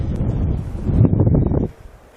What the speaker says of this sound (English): it's fairly windy. I'm sure that you can probably hear that on the video